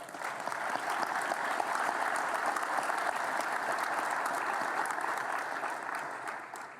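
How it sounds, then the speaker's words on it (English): An audience at an airport business association meeting gives new board members a round of applause, a full, continuous burst of many hands clapping at a steady level. "let's give the new board members a round of applause"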